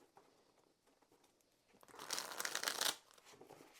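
Tarot deck shuffled sideways by hand, quiet scattered card rustles building into a denser, louder riffling burst of about a second before fading, with no talk.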